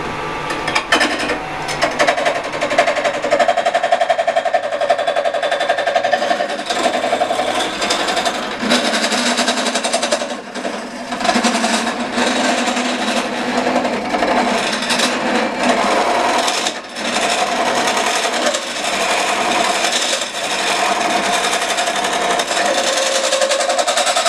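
A wood lathe cores out a bowl blank with a McNaughton Center Saver, giving a steady, loud whirring grind with a constant scraping texture that runs unbroken for the whole stretch, dipping only briefly now and then.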